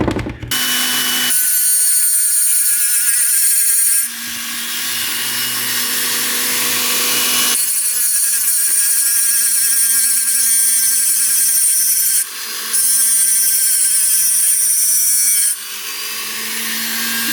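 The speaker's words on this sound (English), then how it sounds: "take my rotary tool and put flats on both sides" A rotary tool grinds flats onto both sides of a T5 World Class transmission gear, with long, loud, high-pitched whining passes broken by short pauses and no talking.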